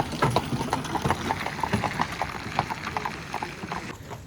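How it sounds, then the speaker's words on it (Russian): Horse-drawn cart rolling past on the forest road to Morskie Oko in Poland, hooves clip-clopping in a steady close rhythm over the rumble of wheels. "А вот едет конячка, повозка,"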